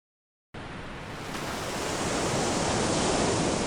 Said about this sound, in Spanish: mientras la brisa marina barre las Galápagos, llevando el sonido de las olas rompiendo